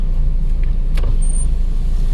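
A truck with a manual transmission idles loudly while being parked on a street, a deep steady rumble with a brief hiss of air partway through.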